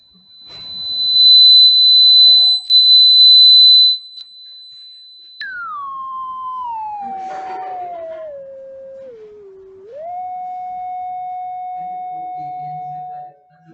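A steady high-pitched electronic tone holds for several seconds, then drops and glides downward in steps to a lower sustained pitch, with faint background noise.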